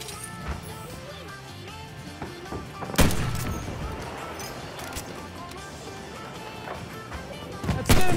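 Enemy machine gun fire in a video game, scattered sharp reports and a few heavier bursts over a busy battle background, moderately loud.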